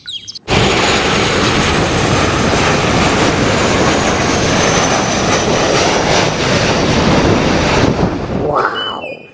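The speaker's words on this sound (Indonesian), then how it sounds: "Wah, pesawat Boeing." A Boeing airplane roars loudly and steadily overhead, a broad, continuous engine rumble that starts abruptly and fades near the end.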